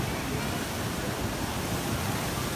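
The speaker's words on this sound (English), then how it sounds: "is the water fountain" A water fountain at an Orlando airport hotel gives off a steady, broad rushing splash, loud and unbroken from start to finish, with no clear talk over it.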